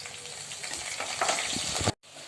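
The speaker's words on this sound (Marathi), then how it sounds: "आपण बारीक वाट कापलेला कांदा येतो असा थोडा लालसर परतून घेऊया" Finely chopped onion sautés in a pan with cumin, a steady close sizzle with a few louder crackles, cutting out abruptly near the end before resuming faintly.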